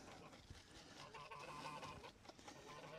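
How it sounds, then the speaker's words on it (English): A goose honks repeatedly out in the open near a beehive, harsh nasal calls repeating over a noisy outdoor background, fairly faint and at some distance. "It's this bloody goose. It's just walked"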